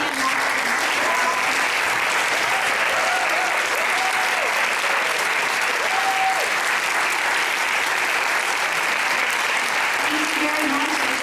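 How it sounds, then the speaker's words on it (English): Audience applause after student iPad presentations, a loud, dense and sustained clapping from a crowd filling the whole stretch, with faint voices and a few whoops mixed in. "One more round of applause, guys."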